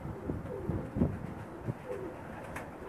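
Pakistani breeding pigeons coo in low, soft repeated calls, close by, with rustling and a faint steady background.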